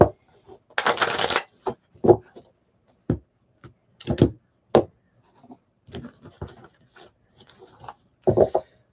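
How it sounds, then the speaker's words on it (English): Tarot cards being shuffled by hand, with a brisk papery riffle burst near the start, then scattered lighter card taps and rustles between soft, intermittent vocal sounds. "let's keep on shuffling up. I'm going to do it one more time."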